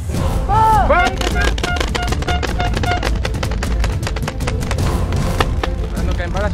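Paintball markers fire in rapid, dense volleys throughout an outdoor paintball battle, producing sharp popping shots at close and middle distance, mixed with shouting players.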